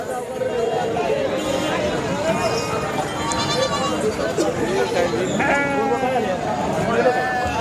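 Goats and sheep bleat repeatedly at a busy open-air livestock market in Sangola, their calls overlapping a steady crowd murmur, with people talking nearby throughout.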